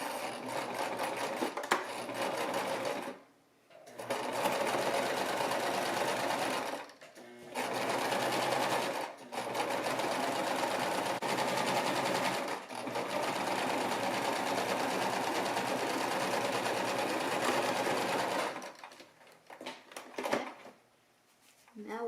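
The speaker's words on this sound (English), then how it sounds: "I'm going to start sewing" A sewing machine stitches a baby romper in long, even runs of rapid mechanical whirring, separated by several short pauses where the needle stops.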